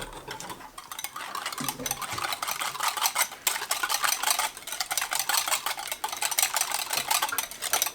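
Semolina cooked in milk being stirred by hand into a bowl of egg, sugar and vanilla, with a steady scraping and clinking of a utensil against the bowl throughout, close and continuous.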